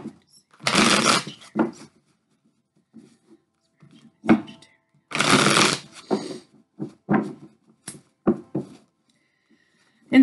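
A Vice Versa tarot deck is shuffled in several brisk riffling bursts, separated by softer taps, handling clicks and quiet pauses.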